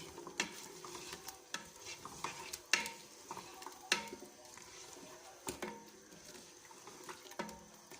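A spoon stirs beef degi korma in a pot, giving scraping, clinking strokes over a soft sizzle of frying, with irregular louder knocks against the pot sides and no talk.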